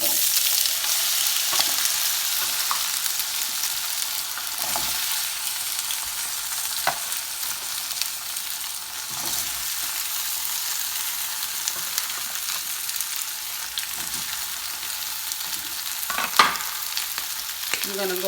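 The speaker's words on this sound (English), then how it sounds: "I'm gonna put just my potatoes in." Potatoes frying in a pan with occasional stirring, a steady close hiss of sizzling oil throughout with faint scrapes and a sharper knock near the end, no voices.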